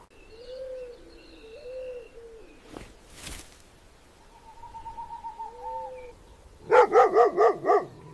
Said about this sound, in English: Opportunists hear the aggressive warning barks.